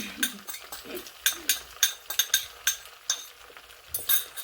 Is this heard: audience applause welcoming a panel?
no